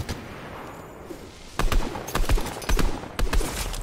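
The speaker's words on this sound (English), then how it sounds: "He was shooting at someone." Gunfire in a battle royale shooter game, bursts of rapid shots in several clusters, fairly loud over quieter in-game ambience, with talk heard in the mix.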